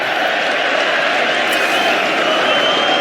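A large cricket crowd at a Test match between England and India, near the Western Terrace, makes a steady, dense murmur with faint distant cheering, continuous and even throughout.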